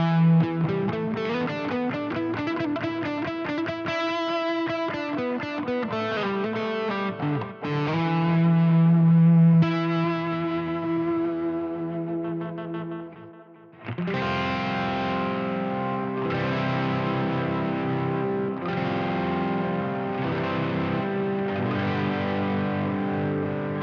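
Electric guitar played through pedal-sized preamps into a Neural DSP Quad Cortex patch, a loud distorted tone with chorus-like shimmer, shifting from fast riffing to sustained notes and then chugging chords.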